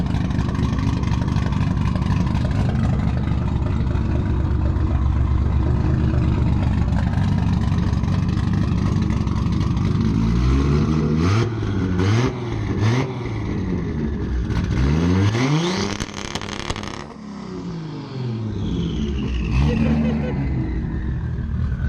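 A loud, deep Nissan Fairlady Z engine with an R35 GT-R straight-pipe exhaust idles roughly, then revs repeatedly in sharp bursts, the exhaust crackling and roaring close by.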